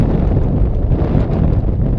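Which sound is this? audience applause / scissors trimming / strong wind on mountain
strong wind on mountain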